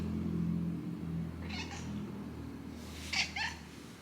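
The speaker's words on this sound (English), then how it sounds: "her little meow hasn't been sounding the same either" A pet cat whose meow has lately sounded a little cracked gives two short, faint meows a couple of seconds apart over a low, steady indoor background hum.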